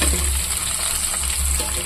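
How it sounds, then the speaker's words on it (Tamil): Onions sautéing with a splash of water in a pan while making mutton sukka, a steady close hiss and sizzle running throughout with faint stirring scrapes. "இப்போ வந்து வெங்காயம் ஓரளவுக்கு ரொம்ப வதக்கிட்டோம்"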